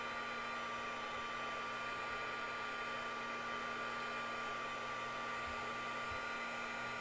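Embossing heat tool blowing steadily over glitter on a handmade craft tag, a constant close whooshing airflow with a faint motor hum and no talking.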